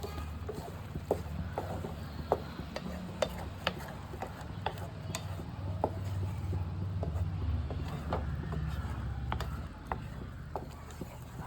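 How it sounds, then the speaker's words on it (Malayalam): Beef curry being stirred in a pot, with irregular light clicks and scrapes of the spoon against the pot over a steady low rumble from the stove. "നല്ലതുപോലെ ഇളക്കി കൊടുക്കണം."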